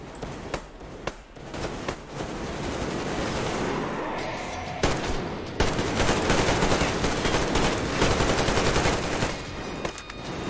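Gunfire with heavy recoil in the Metro Exodus video game: sharp single shots at first, then sustained rapid automatic bursts, loud and close, with no talk.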